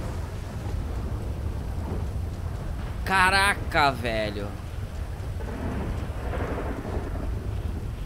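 Rain and rolling thunder during a storm in the video game GTA 5, a steady wash of rain with low rumbling throughout, while someone talks over it in Portuguese.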